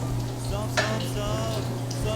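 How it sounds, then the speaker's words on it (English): Potato latkes frying in oil in a pan, a steady soft sizzle with a brief scrape near the middle, heard alone and fairly quiet. "let that one cook for 1 more moment"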